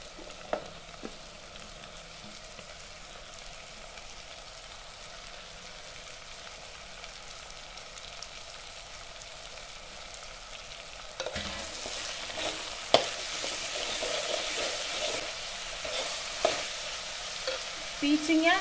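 Ridge gourd pieces fry with softened onions in a pan, a steady sizzle that swells louder midway, with occasional stirring clinks and scrapes.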